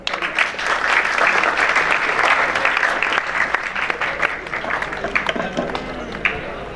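At a school farewell party for Al Quddus Public Boys High School, an audience breaks into loud, dense clapping that holds strong for a few seconds, then thins and fades into scattered claps and faint murmurs.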